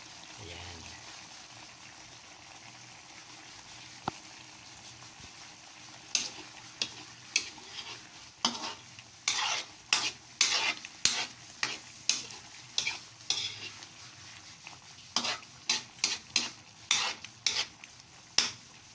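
Chicken liver and gizzard adobo frying in a pan gives a soft, steady sizzle, broken by a run of sharp, rhythmic scrapes and clacks as a utensil stirs the pan, close and fairly loud.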